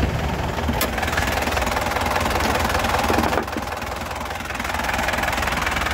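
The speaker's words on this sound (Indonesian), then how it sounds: "kita nyalakan ya, sekali langsung cegrek ya, mesinnya langsung nyala" A 2008 Grand Touring Turbo car engine idles steadily and close up right after starting, a continuous even rumble with no voices.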